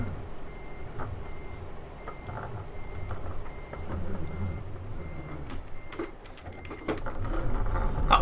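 Truck reversing alarm in Euro Truck Simulator 2, a steady repeating beep over the low hum of the idling engine, moderately loud and continuous, with a rumbling surge toward the end.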